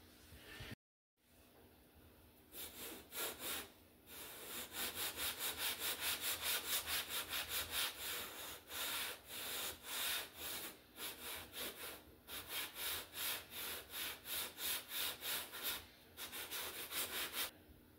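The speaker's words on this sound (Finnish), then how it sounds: "Mulla on 800 hiomapaperia tuohon." An engine cylinder head is sanded by hand on 800 grit sandpaper in repeated rhythmic back-and-forth strokes, close and scratchy, with short pauses between bursts.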